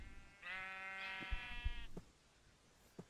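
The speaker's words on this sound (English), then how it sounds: "the sheep are not going to cooperate right now" A sheep in the Minecraft video game gives one wavering, buzzy bleat lasting over a second, followed by a few soft clicks and thumps, quiet overall with no speech.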